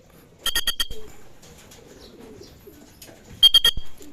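Racing pigeons coo softly at a loft, low murmuring calls beneath two loud bursts of rapid electronic beeping near the start and end.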